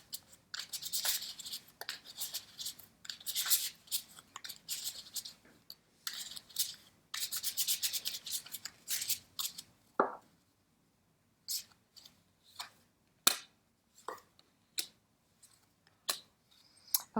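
Vera Sibilla fortune-telling cards being handled and laid out, bursts of shuffling and rubbing card friction giving way to separate soft flicks and taps as cards are set down one by one, close and quiet.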